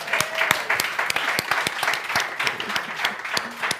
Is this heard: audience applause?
yes